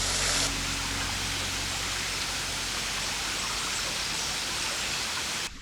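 Steady, broadband rush of flowing water, continuous and fairly loud throughout, with a low hum at the start and no voices.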